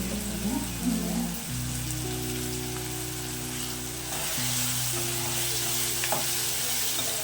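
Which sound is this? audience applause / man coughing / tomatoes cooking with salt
tomatoes cooking with salt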